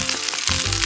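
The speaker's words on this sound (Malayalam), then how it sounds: "സവോള ഒന്ന് വെന്ത് വരുന്നതും വരെ ഒന്ന് വഴറ്റാം" Onions sautéing in a hot pan for a Kerala-style beef stew give off a loud, steady sizzle that fills the short moment close up, with no talking.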